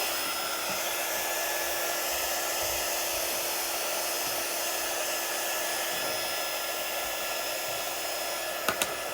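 A hair dryer runs steadily at close range, drying a chalk craft project, with a constant broadband whoosh and no pauses, plus a couple of tiny clicks near the end.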